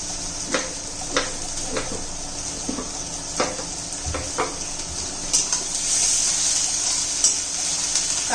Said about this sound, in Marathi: कांदा परतून घेऊ आपण चांगला